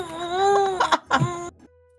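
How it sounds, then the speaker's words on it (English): A woman's pained, drawn-out cry that breaks into two short sobbing bursts before cutting off, close and fairly loud, heard alone. "You hear that? That's the sound of a woman in pain"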